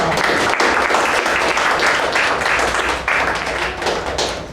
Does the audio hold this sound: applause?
yes